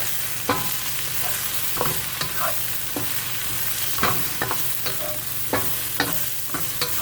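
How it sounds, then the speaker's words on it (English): Eggplant frying in oil in a pan, a constant sizzle broken by a series of sharp utensil scrapes and knocks as it is stirred, close and without speech. "I'm going to give that a quick stir."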